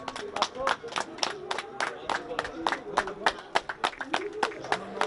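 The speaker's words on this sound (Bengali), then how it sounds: "একবার আরো একবার জোরে হাততালি হোক।" An audience claps at a Durga Puja award ceremony: dense, crackling handclaps that rise and fall in waves, with crowd chatter mixed in.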